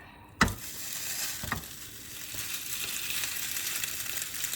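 A sous-vide pork roast hits a very hot pan on a gas stove with a soft thud, then sears with a steady, close sizzle that keeps going.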